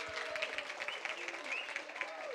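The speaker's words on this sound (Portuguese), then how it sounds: "uma salva de palmas." A congregation applauds during an online church celebration, giving a steady, moderately distant round of clapping while a voice carries faintly over it.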